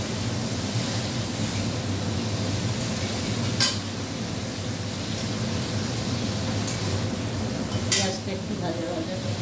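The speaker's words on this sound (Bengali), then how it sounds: "মাংসটা তুলে নিয়েছি, এবার পেঁয়াজটা দিয়ে দিচ্ছি।" Onions go into a pan after the chicken is lifted out, stirred with a utensil that clinks against the pan twice over a steady low kitchen sizzle and background hum.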